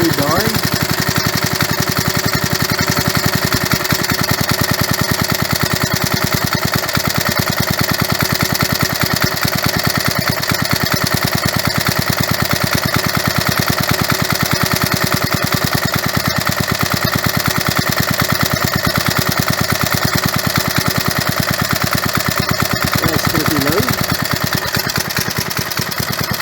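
A 37-year-old Briggs and Stratton engine idles loud and close in a steady, even chug, its rhythm holding unchanged for the whole stretch with no pauses.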